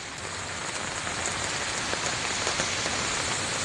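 Steady rain falling on surfaces near a fishing spot, a dense even hiss with occasional distinct drops, close and continuous with no talk.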